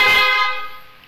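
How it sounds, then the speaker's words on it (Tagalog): Horn of a Honda Click 125 motorcycle fitted with mini driving light wiring, a single short, bright honk close by that rings and fades over about a second. "Okay, busina. Pakinggan yung busina natin."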